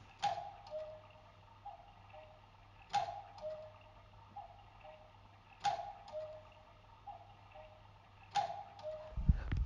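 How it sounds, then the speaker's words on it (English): A cuckoo clock ticks indoors with a few sharp, evenly spaced clacks about three seconds apart over a faint steady hum, quiet and close, with no voices. "when you have that light on, the Cuckoo Clock goes off"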